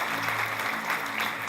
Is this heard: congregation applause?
yes